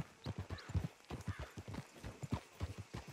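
Horses' hooves clip-clopping in Red Dead Redemption 2, a close rhythmic trot of several beats per second, moderately loud and continuous.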